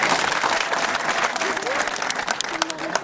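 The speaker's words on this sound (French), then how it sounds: "Donc je vous dis d'applaudir Adra Al-Nafrad." An audience at a storytelling event applauding, loud dense clapping from a crowd that continues steadily, with voices heard through it.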